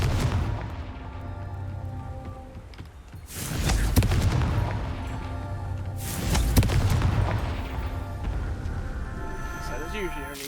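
Confringo fire spells burst in Hogwarts Legacy, two heavy booming explosions a few seconds apart with rumbling tails, over game ambience while a person talks.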